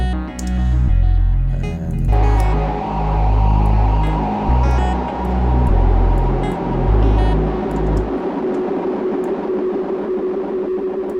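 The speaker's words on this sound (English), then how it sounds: "then it distorts only the feedback side of that delay" Distorted delay feedback in Bitwig Studio: a loud, gritty, buzzing synth tone that repeats in pulsing swells, then thins out into a sustained, crackling tail of echoes.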